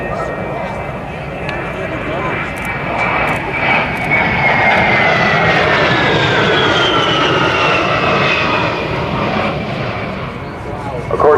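A-10 jet aircraft making a low flyby at an airshow, a loud sustained engine roar that swells and holds for several seconds under a commentator's voice.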